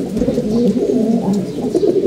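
A pigeon coos close by in a low, continuous rolling call that rises and falls, loud and alone, with no talking.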